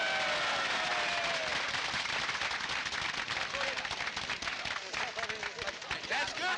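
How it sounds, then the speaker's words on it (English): An audience claps together as barrels are opened, a dense crackling burst of many hands that stays loud and close throughout, with some voices mixed in underneath. "Could you please show your appreciation by clapping your hands if the barrels are successfully opened?"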